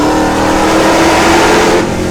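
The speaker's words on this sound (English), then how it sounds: "You can hear this Corsa just open up." A Dodge Charger fitted with a Corsa Extreme Plus exhaust accelerates hard on a highway pull near an underpass, its engine roaring loud and close with a steady rising drone throughout, no talking.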